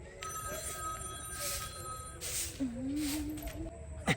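A mobile phone rings with a repeating electronic tone, while faint voices and background noise continue underneath.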